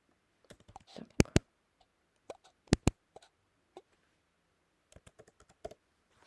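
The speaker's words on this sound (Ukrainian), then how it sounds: "І записуємо сюди в пошукову строку Bollinger Bands." Computer keyboard typing into a trading platform's search box, sparse crisp key clicks in short irregular clusters, close and fairly quiet against a silent background.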